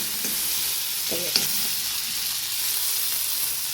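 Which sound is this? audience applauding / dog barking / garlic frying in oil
garlic frying in oil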